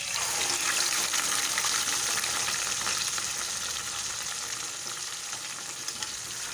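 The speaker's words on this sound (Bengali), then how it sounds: "এবার আমি এই তেলের মধ্যে ম্যারিনেট করা মাটনটা দিয়ে দেবো।" Marinated mutton fries in hot oil with cumin, a loud close sizzle that hisses steadily throughout and fades slightly toward the end, with no voices.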